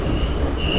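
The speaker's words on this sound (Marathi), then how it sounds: "हे पण मला वाटतं पॅसेंजरच चालले." A passenger train rolls past on the railway, a loud close rumble of wheels on track with a faint steady squeal, filling the short moment without any voices.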